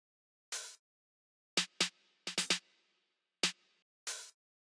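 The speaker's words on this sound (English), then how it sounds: "Then we also have this open hat, sounds like this." An open hi-hat drum sample plays alone in a dry, bright series of crisp metallic hits, some isolated and some in a quick cluster of three, each ringing briefly before cutting off.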